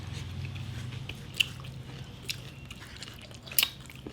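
Someone eating spicy shrimp cooked in coconut milk with chili, close-up chewing with a few crisp bites and soft squishy mouth sounds over a low steady hum.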